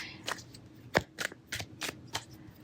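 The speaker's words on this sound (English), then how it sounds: "I'm going to shuffle one more time" A deck of tarot cards being shuffled in several quick riffling bursts, crisp and close, with brief gaps between each pass.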